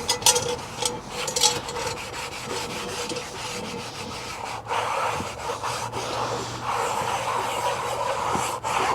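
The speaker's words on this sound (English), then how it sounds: "the Scotch-Brite will help to scrape, rub, and buff out any of the remaining rust and crust that's still kind of sitting there on the surface." Abrasive Scotch-Brite pad scrubbing rust and crust from a Lodge 12-inch cast iron camp Dutch oven, a steady close rasping rub with repeated strokes and a few sharper scrapes, no talking.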